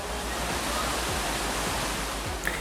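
Mountain valley stream water in a Gangwon-do national recreation forest gushing steadily and loudly, a continuous broadband rush with no pauses, close by and heard alone.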